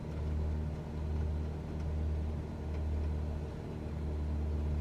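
Tecnam P2010 light plane with a 180 hp engine at full throttle in Microsoft Flight Simulator, a loud, steady low propeller-engine drone with gently pulsing rumble throughout, no talk.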